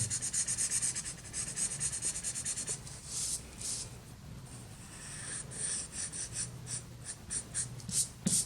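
A pen or brush inks a calligraphic lettering sketch by hand on paper, making a close, steady scratchy rubbing with short rhythmic strokes throughout.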